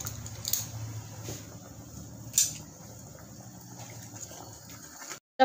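Water poured into a pot of Maharashtrian ghol varan dal, a steady close liquid wash with a brief splash partway through, running alone for about five seconds before cutting off.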